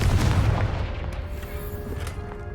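A Confringo blasting spell goes off in the video game Hogwarts Legacy: one deep, heavy boom right at the start that rolls away into a lower rumble, with no voices.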